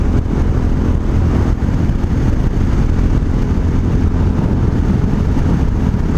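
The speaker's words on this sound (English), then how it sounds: "Man, this does sound good going downhill and no popping or anything." Honda Hawk 250 motorcycle with an aftermarket exhaust rolling downhill, a steady low engine drone mixed with heavy wind rush, constant and close without popping.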